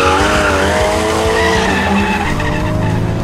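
A Porsche Cayman, mid-engined and rear-wheel drive, runs hard on a small race track, its engine droning loud and continuous with tires squealing and skidding throughout, close and alone.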